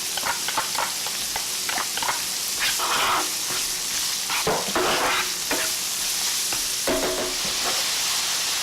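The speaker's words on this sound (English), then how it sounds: "I'm going to add my 5 cloves of minced garlic here" Minced garlic and wilted onion sizzle in a pan for a herring salsado, with a continuous frying hiss and repeated scraping stir strokes close by.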